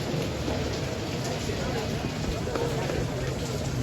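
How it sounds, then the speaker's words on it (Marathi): Steady rain hisses in the background, a dense continuous wash with no breaks, fairly loud and close throughout. "पाऊस काय थांबायचं नाव नाही."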